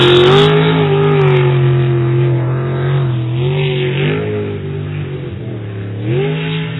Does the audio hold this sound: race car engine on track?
yes